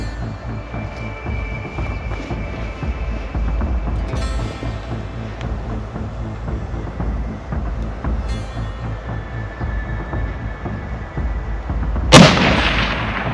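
A single loud rifle shot cracks out near the end of a bear hunt in Montana, sudden and close, after a long stretch of steady low rumbling and wind-like background noise.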